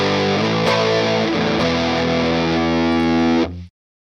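Electric guitar played through Reaper's stock plugins with reverb switched on, sustained distorted chords ringing out loud and close, then a sharp cutoff to silence near the end.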